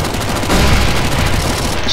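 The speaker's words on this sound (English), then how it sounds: "Shoot the boss, guys! Shoot the boss!" Dense, continuous gunfire aimed at a boss in a CS:GO zombie escape map, many weapons firing at once into a loud, steady roar with no distinct single shots, while voices are faintly mixed in.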